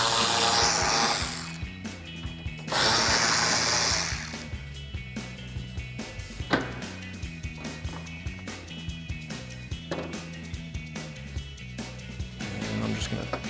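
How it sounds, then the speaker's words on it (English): A ratchet with an 8mm socket removing the taillight screws on a 2009-2014 Ford F-150, heard as a series of quick repeated clicking bursts, close, with bursts of louder whirring noise between them. "I'm just going to use an 8mm socket on a ratchet to remove the two screws and pop the taillights out"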